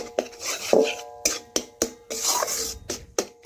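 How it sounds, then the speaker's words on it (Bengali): Fish roe stirred with salt and turmeric in a pan gives a run of irregular, close metallic clinks and scrapes from a utensil against the cookware, with no one speaking. "আমি কিছুক্ষণ পর আবারও মাছের ডিম এইভাবে নাড়াচাড়া করে নিচ্ছি"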